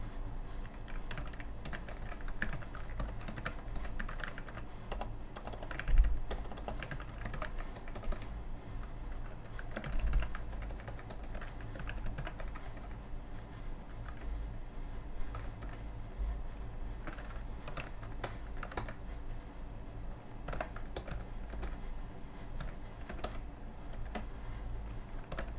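Table contents being entered on a computer keyboard, a continuous stream of quick, light key clicks at a fairly quiet level, with occasional louder taps and no voices.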